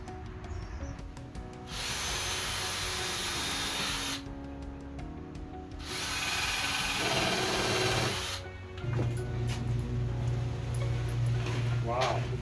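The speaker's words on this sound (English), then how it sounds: "I want to drill pilot holes" A power drill whirs in several sustained bursts with short pauses between, close and loud, its pitch shifting as it bores pilot holes into the end grain of wood.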